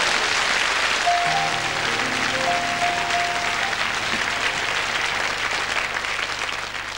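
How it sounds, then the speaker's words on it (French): Studio audience on a French television fans' show breaks into sustained applause, dense and even, with faint musical tones underneath, fading slightly at the end. "vous l'applaudissez pas?"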